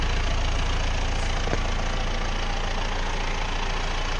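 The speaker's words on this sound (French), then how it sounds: "c'est un broyeur d'accotement" A tractor runs a side-offset horizontal-axis verge flail mower while mowing a meadow, a steady, loud engine drone with continuous broadband mechanical roar that holds unbroken throughout, with no talk.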